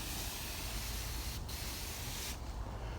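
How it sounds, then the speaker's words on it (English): A hand sprayer mists a weak mixture of mostly water with a little milk over tomato plants in a garden, a steady close hiss that runs continuously with two brief breaks. "I'll go through and I'll spray all the tomatoes with it"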